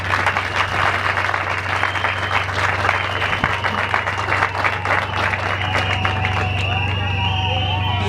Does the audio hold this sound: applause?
yes